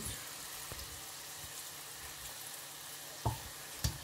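Corn and banana fritters frying in hot oil give a steady, fairly quiet sizzle throughout, with two brief louder pops or clinks near the end and no talking.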